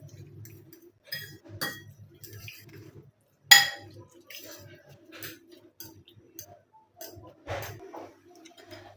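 Eggs are whisked with chaat masala in a bowl, light irregular clinks and taps of a utensil against the bowl in short bursts with quiet pauses between and no talking.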